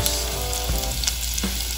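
An Australian ribeye steak sizzles loudly and constantly over charcoal, the dense hiss marked by a couple of brief clicks, with no voices.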